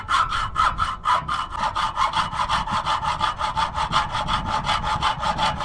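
A saw cutting through a piece of flattened copper pipe clamped in a vise, with steady rapid back-and-forth strokes, close and loud with no talking.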